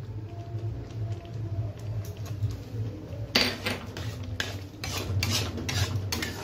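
A spoon stirs and scrapes chhena mixed with powdered milk in a pan while making sandesh. A low steady hum runs underneath, and louder rhythmic scraping strokes begin about halfway through, close and continuous.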